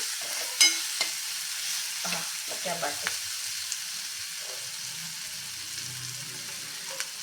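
Soft hot sizzle of ghee tempering frying in a pan, quiet and steady, with a few light clinks and stirring scrapes near the start.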